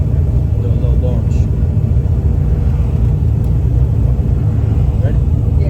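A 1200 HP turbocharged Ford Mustang sits rumbling with a deep, steady engine drone, loud and close throughout, with voices faintly under the noise.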